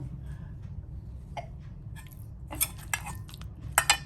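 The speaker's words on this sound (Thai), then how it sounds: "เราเอาน้ำพริกที่ผัดไว้แล้วเนี่ยมา เดี๋ยวเราจะคลุก ที่หมูเนี่ยค่ะ" A metal utensil scrapes and clinks against a wok as stir-fried chili paste is mixed into pork, a run of irregular sharp knocks and scrapes over a low steady background hum.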